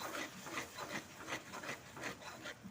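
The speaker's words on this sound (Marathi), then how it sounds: "थोडीशी कोथिंबीर पुन्हा मिक्स करून घेऊया" Tomato masala mixed with coriander in a pan gives quiet, rhythmic scraping strokes from the stirring utensil, repeating every third of a second or so with no talk.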